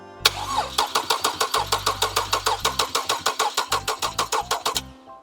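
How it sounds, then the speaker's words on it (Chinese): A gasoline car engine runs on a stand before being installed in the car, giving a loud, close, evenly spaced chugging pulse of roughly three to four beats per second that ends abruptly. "我们先让发动机空转一下。"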